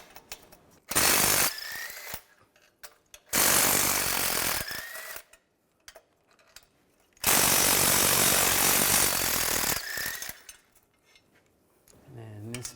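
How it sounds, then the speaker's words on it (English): A power tool spins bolts out on a Chevrolet Cobalt during clutch work, three loud bursts of whirring separated by quiet gaps with small metallic clinks, close by. "and then we're going to take this bolt out"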